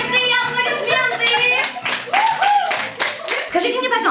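Clapping from an audience at a children's music school anniversary celebration, rhythmic hand claps mixed with loud music and voices, partly buried under the sound of the performance.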